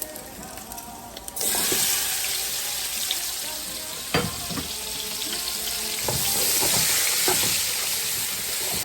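Onions drop into a hot feijoada pot and set off a loud, sustained frying hiss that swells after a quiet start. Occasional knocks and scrapes of stirring sound close by.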